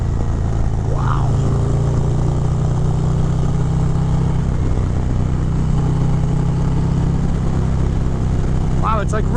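A 2023 Harley-Davidson Road Glide ST with a 135 Stage 4 engine on a test ride gives a steady, loud low drone with wind rush throughout, and brief vocal sounds break in near the start and end.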